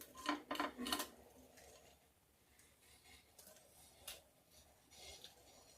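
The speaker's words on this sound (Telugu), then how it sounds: "ఇవి సిజర్తో కట్ చేసుకుందాం" Scissors snip through about a dozen dry, destemmed red chillies, giving a handful of quiet, crisp cuts: a quick cluster at the start, then scattered single snips against a faint, still background.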